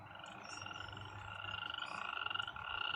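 An animatronic toy frog at a dinosaur park gives a quiet, continuous rattling croak, steady and mechanical, with a faint electronic whine running through it.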